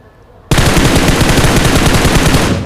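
Automatic gunfire from PUBG Mobile starts abruptly after a quiet moment and rattles on in a loud, rapid, continuous burst close up until the end.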